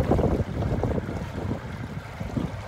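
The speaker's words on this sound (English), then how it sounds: "I don't know what's up with all this damn wind." Strong wind gusting across a bayou on a sunny day, a steady loud low roar with buffeting gusts against the microphone, no talking.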